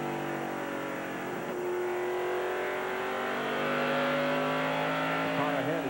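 A 1995 NASCAR Busch Grand National race car howls through a corner at Richmond in the Autolite Platinum 250, its engine note sustained and shifting pitch, with commentary over the roar.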